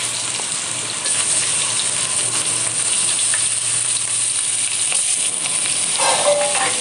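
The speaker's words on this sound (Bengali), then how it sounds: "ওই যে মাখানো মাছগুলো এই তেলে ভাজা হচ্ছে" Rohu fish pieces fry in mustard oil with a close, continuous crackling sizzle that stays fairly loud and even throughout, with no talking.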